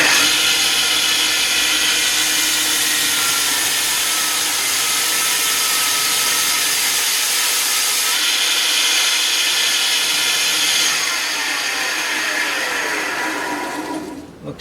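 Steady, loud, high-pitched whirring and grinding from a power tool scrapes off a wood inlay cut on a scroll saw. It runs continuously for about fourteen seconds, shifts slightly in tone partway through, then winds down at the end.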